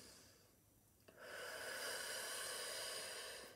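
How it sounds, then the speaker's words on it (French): Slow breath drawn in then released during a meditation practice, a soft airy hiss swelling after a quiet pause and holding steady for a couple of seconds, close and alone. "Respiration."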